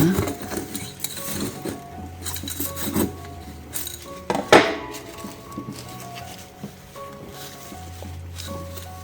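Soil being dug and scraped out of a potted rose: close, uneven scrapes and gritty rubbing, with a sharper scrape near the middle and a low hum underneath.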